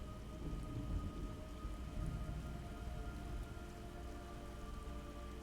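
Steady rain pours with low rolling thunder in a stormy scene from the video game Metal Gear Solid Delta: Snake Eater, a dense, even hiss with a low rumble beneath it and no voices.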